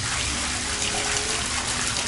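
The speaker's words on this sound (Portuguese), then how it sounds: "Ó, aqui é a cascata. Vou tá ligar a cascata?" An indoor waterfall feature in an upscale São Paulo motel suite runs with a steady, loud rush of falling water. The splashing noise fills the room evenly, with no talking.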